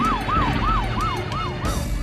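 A police siren played from a mobile phone, its rising-and-falling wail cycling rapidly about four times a second, steady and fairly loud with no voices over it.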